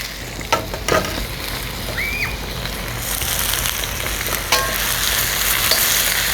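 Baby bok choy stir-fried with garlic and ginger in a hot pan, a loud, steady sizzle with scraping stirs and a few sharp clanks of the utensil against the pan.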